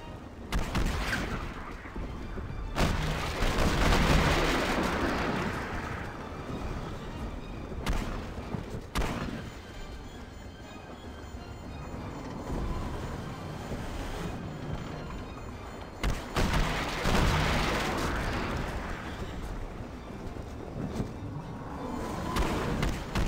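Ship cannons in the Pirates of the Burning Sea video game pound an enemy vessel's mast, heavy booming volleys recurring through a dense, rumbling naval battle with no talking.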